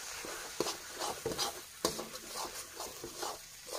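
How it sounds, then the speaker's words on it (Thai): Fermented fish (som pla jom) is stir-fried with egg in a pan, soft irregular scraping and tapping of a spatula over a faint sizzle, heard close and quiet. "ผัดให้ไข่สุกค่ะ"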